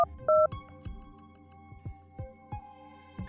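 A telephone keypad dials a number with a few clear electronic tones, followed by a regular series of short clicks or pulses, close and alone with no voices.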